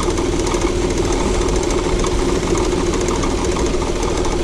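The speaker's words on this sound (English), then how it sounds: "It's making a belt slip." A Saturn L300 with a 3.0-liter engine idles steadily and loudly, its belt slipping on a seizing crank pulley and a worn power steering pump pulley, producing a constant dense mechanical drone.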